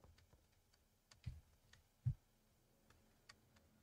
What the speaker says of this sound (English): And there's some kind of clicking noise coming out of it.